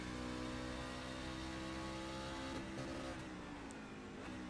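A truck in the iRacing sim at Circuit of the Americas revs in third gear, a steady droning engine note that stays held rather than shifting, fairly quiet and continuous.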